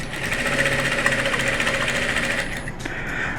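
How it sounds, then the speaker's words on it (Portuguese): A sewing machine runs steadily, stitching a patchwork seam with a fast, even mechanical whir and hum, close and continuous, then briefly pauses and restarts. "E eu volto dando retrocesso, aí eu começo a minha costura"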